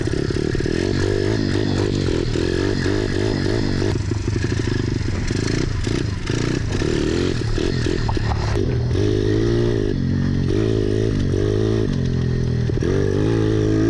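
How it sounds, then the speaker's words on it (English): Dirt bikes rev and roar continuously at a dirt jump contest, engines climbing and dropping in pitch with clattering and scraping, loud and close throughout. "I got given another dirt bike to ride."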